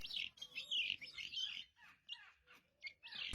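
Vulturine guineafowl call in a run of sharp, high chirping bursts, loud at first and then broken into shorter, spaced notes with brief gaps between them.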